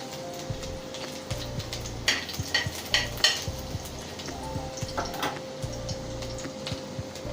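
Finely chopped garlic sizzling in hot oil in a pan, a steady frying hiss punctuated by light clicks and stirring taps, heard up close with no talking.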